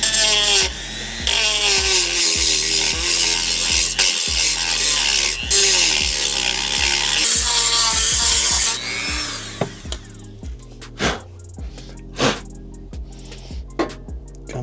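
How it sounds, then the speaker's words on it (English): A Dremel rotary tool with a carbide-tipped bit cutting steel gives a loud, close, whining grind with pulsing pitch for about nine seconds, then stops, followed by scattered sharp clicks and taps. "It's surprising how quick these carbide tip bits will cut through steel."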